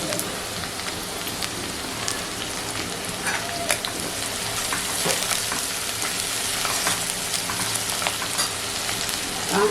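Curry leaves crackle and sizzle as they hit hot oil for a drumstick (shevga) masala, a dense, steady frying hiss with sharp pops scattered throughout, close and continuous.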